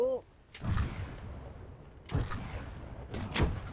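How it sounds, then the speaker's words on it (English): Artillery shells from a World War II barrage in Call to Arms land in three heavy booming impacts spaced about a second and a half apart, each with a rumbling tail, moderately loud. "That was a good barrage"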